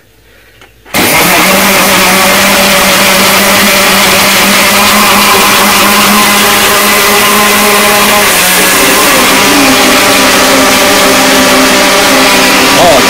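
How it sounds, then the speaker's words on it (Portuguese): Two blenders switch on together in a solar-power setup, kicking in abruptly after a brief quiet moment and holding a loud, steady motor whine and hum with a slight pitch shift partway. "Dois liquidificadores funcionando."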